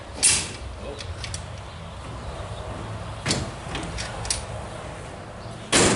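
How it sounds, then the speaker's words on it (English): Steel bolts slid and seated to mount a homemade door on a Bobcat 763 skid-steer loader: a few sharp metallic clicks and clanks spread over several seconds against a low outdoor rumble, the last one loud and close. "all I gotta do is line up that bottom bolt, slide the top bolt out"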